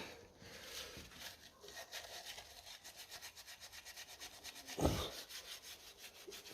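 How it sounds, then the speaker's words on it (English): A degreaser wipe rubs over the cylinder head of a 1957 Ferguson FE35 TVO tractor in quick, rhythmic back-and-forth strokes, faint and close, with one louder knock partway through. "And now I'm just going to do a little bit of this degreaser wipe here."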